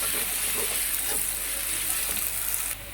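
Garlic-ginger paste sizzles and fries steadily in a pan for a mixed vegetable curry of potatoes and peas, a continuous close hiss with faint stirring scrapes, easing slightly near the end.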